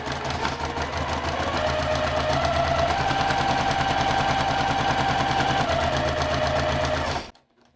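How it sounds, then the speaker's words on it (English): A sewing machine runs steadily along the edge of a self-binding baby blanket, its fast even stitching rattle close and continuous for about seven seconds before it stops abruptly. "And then I'm just going to sew down along that edge."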